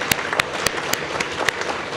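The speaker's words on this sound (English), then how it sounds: "Let's give them a round of applause." Applause at a city council candidates forum, with scattered, fairly sparse claps at a steady rhythm, close and moderately loud, some hands standing out sharply over a soft room background.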